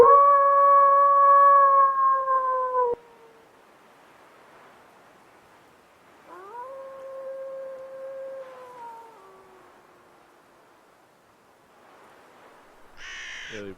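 Long, drawn-out howls rise and fade in the distance, one sustained call followed by a quieter second after a pause, against near silence.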